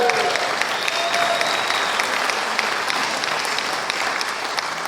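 Dense, sustained applause from a concert audience at a spring swing concert, close and loud, a steady unbroken patter of many hands for the whole stretch.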